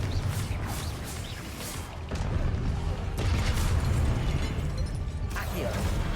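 A Confringo fire curse from the video game Hogwarts Legacy detonates in a loud burst of rumbling, crackling blasts that swell and keep roaring across several seconds, layered with game effects and mechanical clatter.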